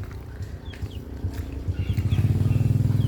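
A motorcycle engine idles and revs in a backyard, a steady low rumble that swells to a louder pulsing throb near the end.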